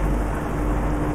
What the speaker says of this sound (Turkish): Oyunda yağmur yağıyor.